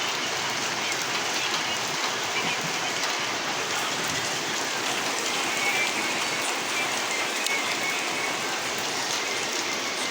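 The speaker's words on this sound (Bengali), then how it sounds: "আর এই দিকটা কি পরিমাণে বৃষ্টি হইতেছে, বৃষ্টির গতি খালি বাড়তেই আছে।" Heavy rain pours steadily on surfaces outdoors, a dense, continuous hiss with no letup, loud and close, with no voices.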